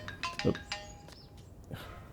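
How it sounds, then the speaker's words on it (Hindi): A phone ringtone chimes in a brief melodic pattern of bright tones, fairly close, with a soft thud near the start and a quieter tone toward the end. "अरे फोन भी आ गया।"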